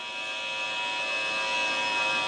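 An electric drill-like bone saw cuts through a human skull in a mortuary, a steady high-pitched whine with a grinding edge held at even loudness for a few seconds, close by with no voices.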